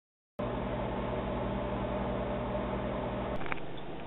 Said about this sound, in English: Maybe there's just a cold spot in this microwave.